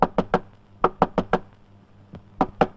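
Someone knocks on a house door in a Tamil drama scene, sharp close raps in quick groups of three and four with short pauses between, with no voices.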